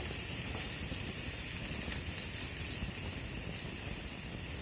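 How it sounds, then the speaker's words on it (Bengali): Ginger, garlic and green chilli fry in oil in a pan, making a steady, close sizzle and hiss that holds at the same level throughout, with no voices. "কাঁচা লঙ্কা আদা রসুনটা আমি ভালো করে ভেজে নেব।"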